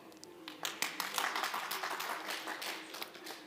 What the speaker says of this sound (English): let's welcome him with a big round of applause